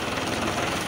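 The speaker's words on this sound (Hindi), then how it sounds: "ये देखिए हमारे भैया ट्रैक्टर चला रहे हैं फोर्ड 3600।" A Ford 3600 tractor engine runs steadily close by, a dense, continuous diesel rumble and clatter that holds at one level for the whole second with no voices.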